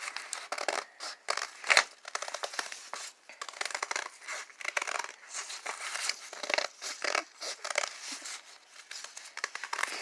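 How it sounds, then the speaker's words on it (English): Scissors snip repeatedly through a stack of book pages being cut into flower shapes, giving close, crisp papery crunches and rustles in an irregular rhythm with no speech. "It also helps if you cut all of the pages at the same time"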